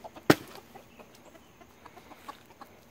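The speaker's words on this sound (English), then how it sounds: "Come and get it, chickens." Chickens cluck softly and intermittently nearby, with one sharp louder knock near the start and scattered small sounds around them.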